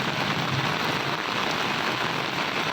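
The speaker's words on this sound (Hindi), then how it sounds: "पंजाब के मुख्तलिफ शहरों में मूसलाधार बारिश।" Torrential downpour over cities in Punjab, a dense, loud, unbroken roar of rain pounding surfaces with no pauses and no voices.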